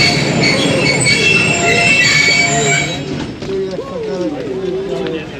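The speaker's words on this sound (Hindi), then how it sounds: "और यहाँ पर ट्रेन रुकती है," The Allama Iqbal Express, an all-economy-class train running from Karachi to Raiwind, pulls into a station with loud, sustained wheel squeal that eases into a rumbling roll as it slows, while voices can be heard around it.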